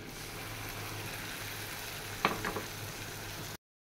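Onion, garlic and turmeric, chili and coriander powders with salt fry steadily in a pan for a coconut-paste fish curry, a continuous even sizzle with a few brief scraping stir clicks near the end.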